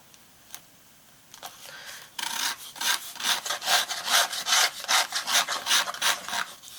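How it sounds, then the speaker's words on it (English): A spatula scrapes leftover texture paste off a stencil in a run of rapid, rhythmic rasping strokes that start after a quiet moment and continue close and steady. "We can scrape away. Loads left on my spatula and on the stencil."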